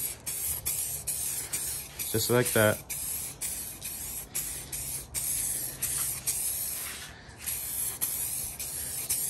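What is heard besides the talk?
spray painting with a spray can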